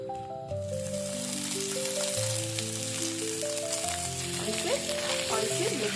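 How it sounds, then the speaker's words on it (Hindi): Chopped potatoes frying in a pan with turmeric and red chilli powder, a steady crackling sizzle under background music, close and moderately loud throughout. "अब हम इसमें कटा हुआ आलू डाल देंगे।"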